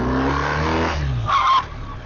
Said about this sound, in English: front wheel lock skid